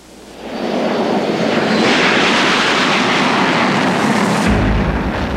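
U.S. fighter and reconnaissance planes fly overhead, a loud broad jet roar swelling in within the first second and holding steady, with a deep rumble added near the end.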